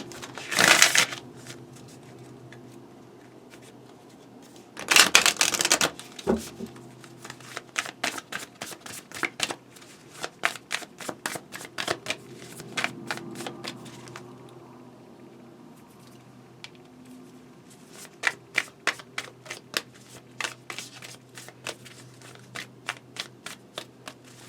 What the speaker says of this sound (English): I'm going to be pulling an animal apothecary card.